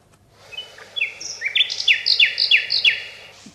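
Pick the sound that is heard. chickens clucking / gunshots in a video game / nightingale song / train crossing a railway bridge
nightingale song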